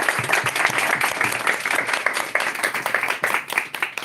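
A crowd at a graduation ceremony claps in sustained, dense applause that fills the whole stretch, swelling and dipping a little in loudness, with no clear speech over it.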